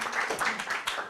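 Audience clapping at a science communication competition final, a short burst of scattered hand claps, fairly quiet and uneven.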